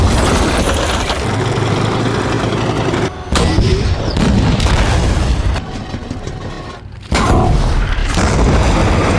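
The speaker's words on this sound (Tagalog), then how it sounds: "Nagpalitan sila ng putok." Tank cannon fire in a World War II battle scene between a T-34 and a German tank, heavy booms and blasts over a dense rumbling roar, loud and close, with brief sudden drops to near silence between shots.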